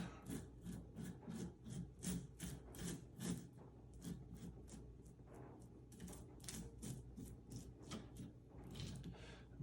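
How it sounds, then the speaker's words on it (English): Faint, rhythmic scraping strokes as a tool lightly scratches open honeycomb cappings on a beehive frame, each rasping pass repeating steadily at close range. "I just lightly scrape the tops open such that I get all that goodness out"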